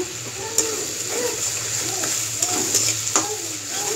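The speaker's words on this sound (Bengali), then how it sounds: "আর একটু কষিয়ে নেব টমেটোটা সহ" Garlic paste and diced tomato fry in a pan with a soft, steady sizzle, interrupted by a few light stirring clinks and scrapes.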